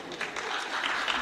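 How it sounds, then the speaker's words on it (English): An audience at a young women's parliamentary sitting bursts into brisk, dense clapping, many hands at once for about a second, with no voices over it. "I want you to give them all a big round of applause."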